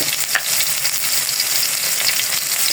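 Potatoes and soybeans fry in a pan with asafoetida, giving a loud, constant crackling sizzle up close with faint stirring scrapes, no talking.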